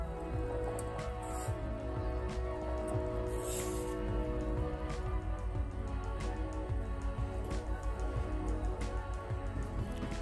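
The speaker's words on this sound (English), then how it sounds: "let the serrano peppers boil for 5 to 10 more minutes" Serrano peppers boiling in a pot of water for homemade Mexican salsa give a continuous bubbling, popping simmer with scattered sharp pops, steady and close throughout.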